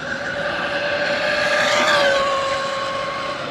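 An Arrma Typhon 223s RC car on a 3S battery making a full-throttle top-speed run, a steady high-pitched electric motor whine that swells as it passes nearest, then fades slightly.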